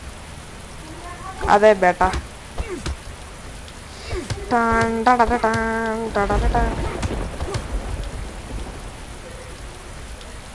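Steady hiss of rain in an Android GTA-style video game, a broadband wash running under the whole stretch, with someone speaking briefly and tonal game sounds rising over it.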